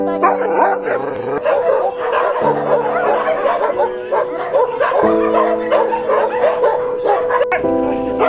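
Many dogs at an animal shelter bark, yip and howl together in a loud, continuous, overlapping chorus, with some whimpering mixed in.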